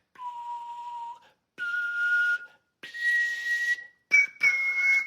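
A man whistles four separate sustained notes, each rising a step higher than the last, clear and close with short pauses between them and no talking.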